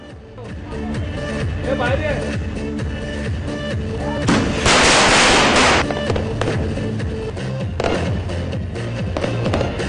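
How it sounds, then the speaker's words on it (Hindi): Diwali fireworks and firecrackers going off in a loud crackling barrage, with a dense hissing burst near the middle, while speech runs throughout. "उन्होंने जमकर आतिशबाजी की।"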